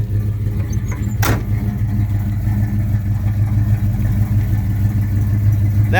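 A 1970 Pontiac LeMans with a Pontiac 400 V8 and four-barrel carburetor runs steadily close by, a deep, even idle rumble with a brief sharper blip partway through and no talking.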